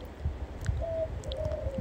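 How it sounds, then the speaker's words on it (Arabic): A hand-raised goldfinch out in a garden gives a couple of short, clear whistled notes, moderately close, over a low murmur of background noise. "أول مرة أحاول أطلع الحسون بالحديقة"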